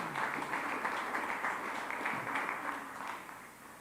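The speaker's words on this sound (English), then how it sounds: "Another round of applause for Bodie Evans." Applause fills a school board meeting room for a student athlete, a steady, moderately loud wash of many hands clapping that fades slightly toward the end, with no voices over it.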